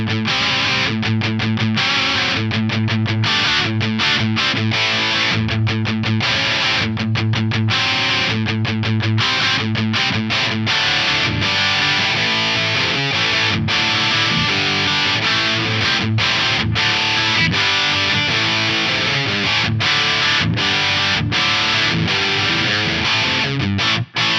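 Heavily distorted electric guitar through a captured ADA MP1 rack preamp plays a chugging, palm-muted riff with tight rhythmic stops, loud and continuous throughout.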